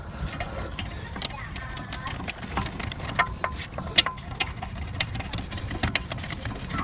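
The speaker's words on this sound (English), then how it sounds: "next we will retighten the slider pins" A ratchet tightens the front brake caliper slider pins on a 2012-or-later Mercedes-Benz ML/GLE (W166), giving rapid, continuous metallic clicking with scattered sharper knocks, close up against a busy garage background.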